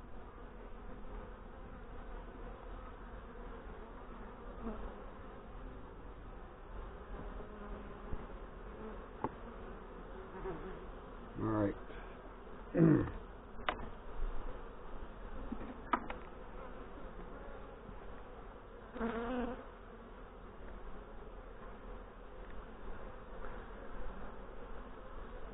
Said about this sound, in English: Concentration of bees is on this side of the box.